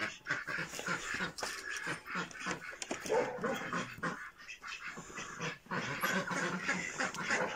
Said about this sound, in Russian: Курочки, утки все гуляют